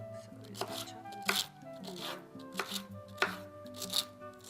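A knife chops celery on a cutting board in a kitchen, giving sharp close knocks in an uneven rhythm, about six strikes. A steady tonal hum, like a running appliance, sits underneath.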